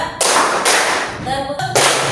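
A classroom of pupils playing a counting clap game, with loud bursts of group clapping that stop and start, and a short stretch of voices between the bursts.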